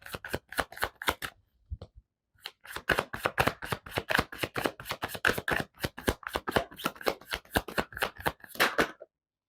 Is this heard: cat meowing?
no